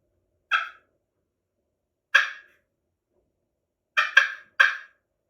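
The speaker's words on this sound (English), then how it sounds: "So this is a call, that put or a cluck." A wild turkey giving alarm putts or clucks: five short, sharp calls, a single one, then another, then a quick cluster of three, clear and fairly close against silence.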